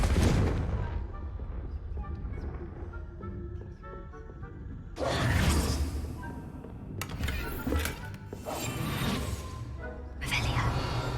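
Spell blasts from Confringo, the explosive curse in the video game Hogwarts Legacy, burst out in a few loud booming strikes with broad crackling noise, set against game background sound.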